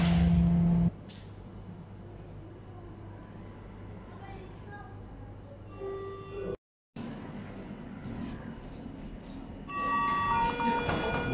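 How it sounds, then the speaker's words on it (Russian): Subway metro train ambience: a steady rumble and hiss of rail travel with faint tonal whines rising and falling, a brief dropout midway, and louder brighter noise near the end. "Просто нравится вот эта атмосфера метро"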